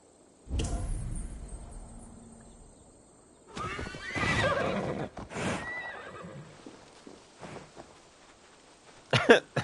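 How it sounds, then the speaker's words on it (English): Horses in Assassin's Creed Valhalla burst through, giving a loud whinny followed by snorts and a few hoof clops, with quiet gaps between the sounds. "The horses just randomly burst through."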